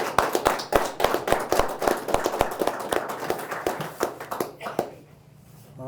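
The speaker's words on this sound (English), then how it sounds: "Let's give them one more round of applause." A small crowd at a sheriff's office quarterly awards ceremony claps in a round of applause, with sharp, distinct hand claps at a quick, fairly steady pace that taper off after about five seconds.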